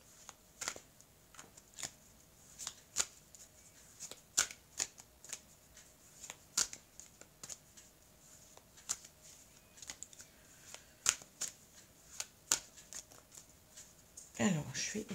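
A deck of oracle cards shuffled by hand, crisp riffling snaps and slaps repeating at a steady rhythm, close and clear with light rustling between.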